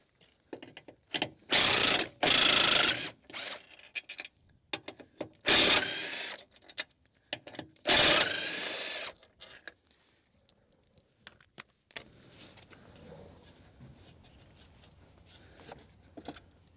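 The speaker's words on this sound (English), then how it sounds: "I'll just take that 10mm bolt out there" Ratchet wrench undoing 10mm bolts on a crash-damaged BMW M Sport, several loud bursts of rapid clicking separated by quieter workshop handling noises, close by, with no talking.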